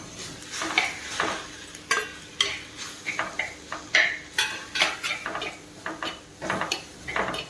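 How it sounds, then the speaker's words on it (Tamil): Two medium-sized, roughly chopped tomatoes sautéing on medium flame in a pan, a soft sizzle under irregular metallic scrapes and stirring clinks, close and without talk. "மீடியம் ஃப்ளேம்லேயே வச்சு தக்காளியை நல்லா வதக்கி விட்டுக்கோங்க"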